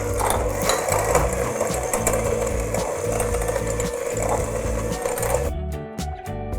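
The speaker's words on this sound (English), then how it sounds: "I'm going to be using a hand mixer for this because it gives me a little bit more control to get those clumps out" A handheld electric mixer beats butter and cream cheese for a mango coconut cake, giving a steady, loud, close motor whir with scraping texture throughout, easing and stuttering near the end.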